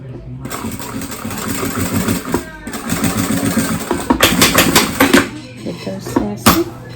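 A sewing machine stitches the finishing seam on a heart-shaped bag, a close mechanical whir running in bursts with brief stops and a few sharp clicks near the end.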